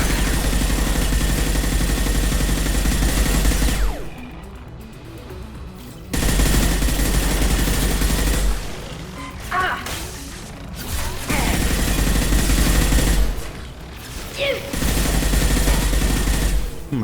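Gunfire in the video game Mass Effect 2 comes in long, loud bursts of rapid automatic fire, broken by short quieter gaps with scattered impacts.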